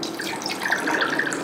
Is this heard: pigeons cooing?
no